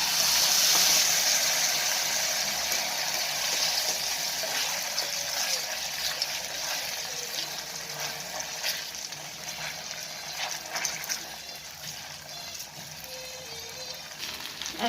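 Vegetable cutlets, made without onion or garlic, fry in a pan with a steady, close hiss and sizzle that softens a little over time, with faint crackles scattered through it.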